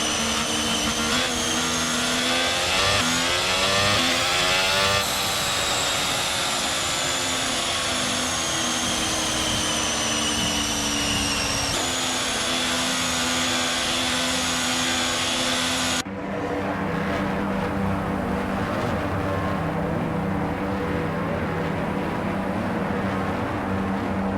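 Formula 1 race cars idle on the starting grid in the F1 22 video game, a steady layered engine drone that runs continuously and then changes tone partway through.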